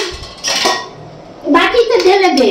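Metal clatter in a home kitchen as a lid goes onto a pot of freshly cooked dal, two close, sharp clanks with a short scrape, and someone speaking afterward.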